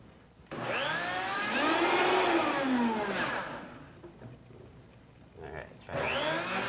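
A kitchen blender whirs loudly during a live Cinco de Mayo cooking demonstration before an audience. The motor's rising, wavering whine runs for about three seconds, drops away, then starts again briefly near the end.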